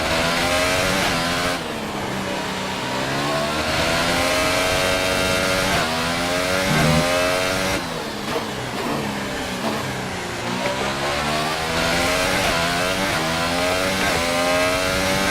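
F1 race car engine in the video game F1 2018 during an online career race, a loud continuous high-pitched scream rising and falling through gear shifts and revs, alone.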